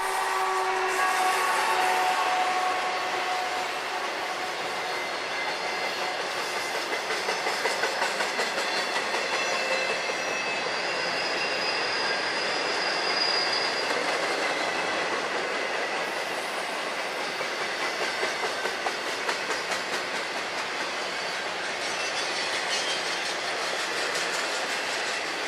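A long freight train with four Dash 9 locomotives on the point and mid-train helpers rolls steadily past along the Columbia River, a continuous loud roar of wheels and cars with faint clickety-clack and occasional squeal, no voices.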